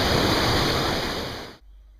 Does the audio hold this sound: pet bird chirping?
no